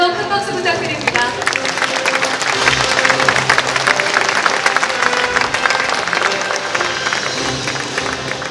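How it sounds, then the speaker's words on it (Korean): An audience applauds at a formal national ceremony marking Constitution Day in Korea, a dense, loud, continuous wash of many hands clapping that holds steady throughout. "다시 한번 큰 박수 부탁드립니다."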